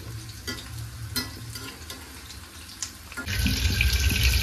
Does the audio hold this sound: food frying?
yes